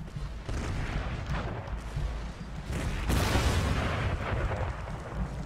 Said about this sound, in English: that was an excellent shot by artillery